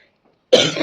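A single close, loud cough bursts out after half a second of near silence and trails off with a rough, throaty tail, no talking around it.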